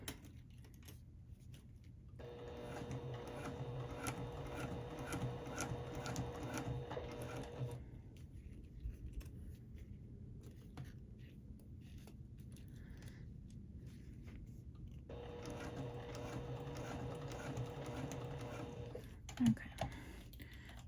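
A sewing machine stitches a pocket pal in two steady runs, humming with a fine rapid rhythm, with a quiet gap between them and soft background noise.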